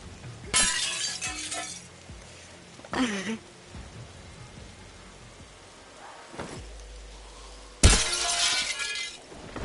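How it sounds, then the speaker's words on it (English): Glass shattering in The Last Stand Aftermath on PS5: several separate crashing breaks with tinkling debris, one near the start, another a few seconds later, and a louder burst near the end, over quiet game ambience. "I like breaking glass on here for some reason"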